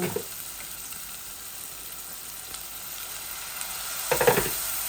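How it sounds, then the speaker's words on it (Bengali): Hot water meets frying chicken curry spices such as curry powder, coriander and cumin, giving a steady hiss with a louder sizzling burst near the end, close up and without speech. "গরম পানি দিছি, একটু ভাজা ভাজা হয়ে যাক"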